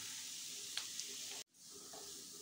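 Beetroot sizzling in a pan of hot ghee mixed with a little oil, a steady faint hiss with a couple of light stirring clicks and a brief dropout midway.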